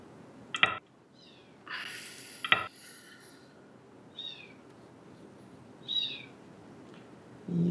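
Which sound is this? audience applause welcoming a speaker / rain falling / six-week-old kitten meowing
six-week-old kitten meowing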